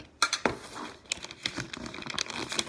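A piece of tape is pulled and torn while wrapping a Christmas gift: a quick sharp rip followed by light crinkling of wrapping paper, close and fairly quiet.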